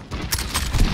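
Gunfire in a video game: a quick run of several muffled shots and thuds over about a second, fairly loud and close, with no voices.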